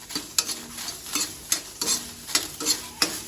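Green chillies roasting in a pan, with a spatula stirring and scraping in a steady rhythm of about two strokes a second over a soft sizzle, close and alone.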